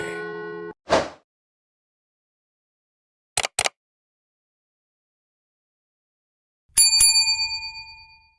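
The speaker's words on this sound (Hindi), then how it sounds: "रात को मंदिर की घंटी अपने आप बजती है" Several separate bell strikes with pauses between, the last one bright and ringing out for over a second before fading.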